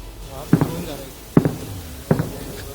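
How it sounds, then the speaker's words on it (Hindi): Three sharp, heavy bangs spaced about a second apart, each with a short echoing tail, distant Indian anti-aircraft counterfire against drones ringing out against a low background rumble. "यहाँ से ये अपने भारत की तरफ से जवाबी फायर किया जा रहा है।"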